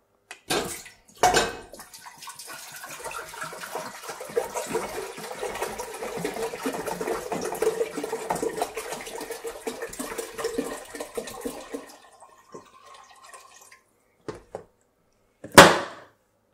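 A gallon of filtered water pours steadily into a metal pot for about ten seconds, bracketed by clanks of the container and a final loud knock.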